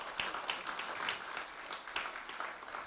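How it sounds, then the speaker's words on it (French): An audience at a public meeting on pensions applauds with moderate, fairly distant clapping. It carries a loose rhythm of individual claps and stays at a steady low level throughout. "je pense qu'on peut les applaudir"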